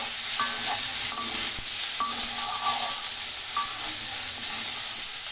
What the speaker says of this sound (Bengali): একটু নাড়াচাড়া করে তারপর নারকেলের দুধটা দিয়ে রেখেছিলাম